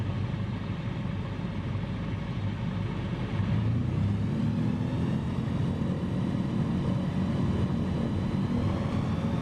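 A steady, loud aircraft engine drone in Microsoft Flight Simulator 2020 before takeoff, a continuous propeller-like hum that grows slightly stronger partway through, with no talking.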